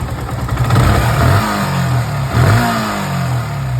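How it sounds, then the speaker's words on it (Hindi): A rebuilt Yamaha R15 V2 motorcycle engine revs up twice in quick succession and settles back between blips, loud and close with a steady idle underneath and no voices. "तो अभी हम लोग चालू करके गाड़ी को दिखा देंगे। इसका साउंड देख सकते हो कितना स्मूथली साउंड"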